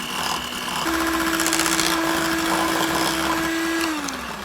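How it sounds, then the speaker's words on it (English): An electric hand mixer with a single beater whirs at a steady pitch for a few seconds blending batter, then winds down, its motor hum buzzing close by. "I'm gonna take my blender with just one little, mixer on it, and I'm gonna blend it together very well"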